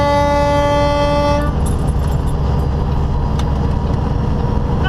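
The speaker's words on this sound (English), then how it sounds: "I'm gonna honk at them." A truck's air horn blasts loudly and steadily for about a second and a half over heavy road and engine rumble on a freeway, aimed at slow farm machinery, then gives way to continuous driving noise.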